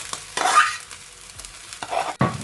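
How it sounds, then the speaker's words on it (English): Cooked rice scraped and stirred through scrambled egg in a hot frying pan for chicken fried rice, with a few bursts of scraping and light sizzle separated by quieter pauses, close and fairly loud. "I'm going to add in the rice. So adding in the cooked rice."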